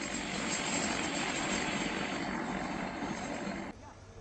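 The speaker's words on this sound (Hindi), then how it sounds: "सुबह सुबह एक हेलीकॉप्टर भी टनल के पास उड़ान भरता हुआ दिखा।" Near a collapsed road tunnel in Uttarkashi during a rescue operation, a helicopter flies by with a loud, steady whirring roar that fills the scene and holds before dropping off abruptly.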